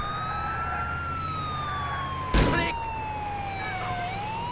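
A police car siren wails in a video game, a steady rising and falling tone heard at moderate volume, briefly interrupted by a short loud crash-like burst midway.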